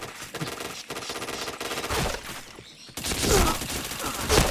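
Shooter video game gunfire rattles in sustained automatic bursts, briefly dropping away near the middle before a louder, denser volley returns, close and continuous with no talking.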